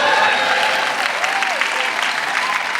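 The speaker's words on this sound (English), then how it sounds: "Can we have a round of applause for everyone who's come?" An audience at an in-person event at the Bernie Grant Arts Centre gives a warm round of applause, dense steady clapping with a brief vocal sound rising through it.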